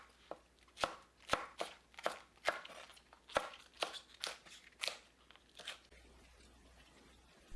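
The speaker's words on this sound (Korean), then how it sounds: "파는 반 갈라서 어슷 썰어주세요" A knife cuts halved green onion on the diagonal against a board, making about a dozen crisp, close chops in an uneven rhythm before stopping, with no talk.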